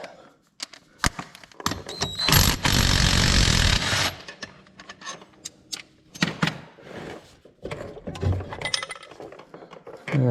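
A clutch knocked loose from the engine of a Gravely ZT60 HD zero turn mower gives a clattering metallic burst of clinks and scrapes, then scattered knocks and rattles nearby, with no talk.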